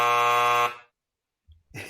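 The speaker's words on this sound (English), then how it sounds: "We don't need the second buzzer there." A game-show style buzzer blares once, a loud harmonic tone lasting well under a second before cutting off, followed by silence and a brief bit of talk at the end.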